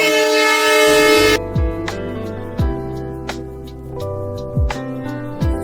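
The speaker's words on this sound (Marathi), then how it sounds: "रेल्वे आपल्याला दिसली" A train at Limgaon railway station sounds a long, loud horn, then the carriages roll past with repeated rhythmic clacks of wheels over rail joints, staying steady and fairly close throughout.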